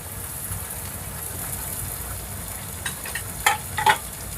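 Onion sautés in a pan over a low gas flame, a steady soft sizzle running throughout, with a few sharp clinks of a stirring spoon against the pan near the end, close and moderately loud, with no voices.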